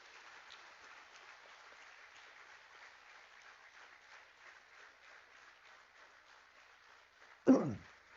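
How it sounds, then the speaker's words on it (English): A conference audience at an Engineers' Day launch event in a Nashik hotel gives a soft, steady round of applause for about seven seconds, ending with a sudden close thump. "A big round of applause."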